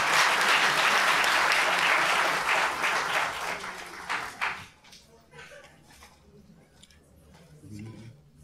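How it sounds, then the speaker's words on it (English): At the 1999 Unsung Hero Awards in the San Francisco Public Library, an audience claps loudly and steadily for about four seconds before the applause fades quickly, leaving a speaker talking in a quieter room. "May we give him a round of applause,"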